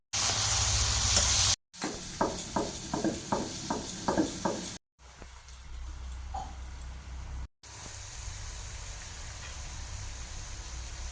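Tomato frying with spices in a wok, a steady sizzle with a run of rhythmic stirring knocks against the pan, split by several abrupt cuts.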